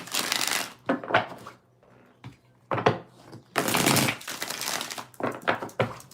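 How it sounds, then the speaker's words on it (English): A deck of tarot cards is shuffled close up by hand in several rapid riffling bursts, crisp papery flutters separated by short pauses and soft handling rustles. "Let's get 4 shuffles here."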